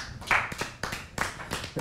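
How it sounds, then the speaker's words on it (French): A few people clapping their hands in a small group, a handful of close, loud, separate claps in an uneven rhythm, without talking. "je m'applaudis aussi"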